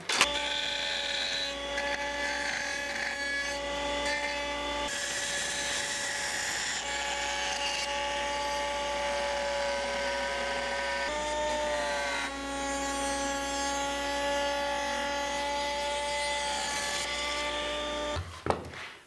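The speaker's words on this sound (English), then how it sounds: "we'll use a pattern bit to cut it out" A woodworking router with a pattern bit cuts wood for a mid-century modern nightstand, a loud steady high-pitched whine with shifting tones as it bites, briefly dipping and resuming before cutting off at the end.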